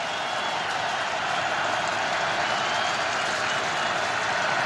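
A football stadium crowd roars during a big third down late in a Texans at Redskins game, a loud, continuous wash of cheering and clapping with no break.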